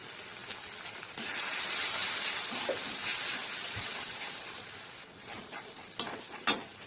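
Ground turmeric, salt and chili powder hit hot oil in a pan, giving a steady broad sizzle with stirring scrapes and a few sharp clicks near the end.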